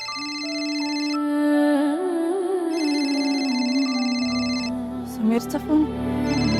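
Sameer's phone rings with a melodic electronic ringtone, a sustained tonal tune played close and clear for several seconds before cutting off into brief movement sounds.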